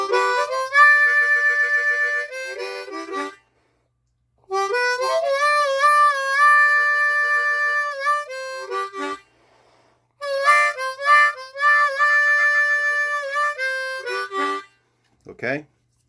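Blues harmonica riff played as draw and blow notes on holes 4, 3 and 2, three solo phrases separated by short pauses, close and clear with no talking.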